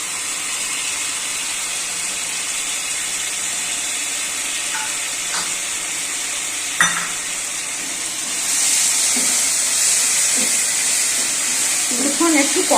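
Potato and pointed gourd frying in a pan with melon seed paste, a steady hiss of sizzling with occasional scrapes and clinks of stirring, growing slightly louder partway through.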